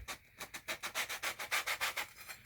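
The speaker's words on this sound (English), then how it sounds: "to take the edges down, I'm just going to use a sanding block" A sanding block rubs back and forth along the edges of a DX Commander antenna build, taking off burrs in quick, even strokes, a close, raspy scratching repeated about a dozen times.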